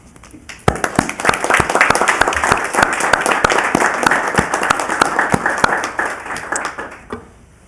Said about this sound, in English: I hope if she's watching, she'll at least hear our applause